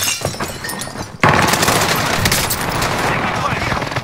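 Sustained automatic gunfire from a multiplayer shooter erupts suddenly after a quieter stretch, a dense, loud burst of rapid shots and impacts that runs without pause to the end.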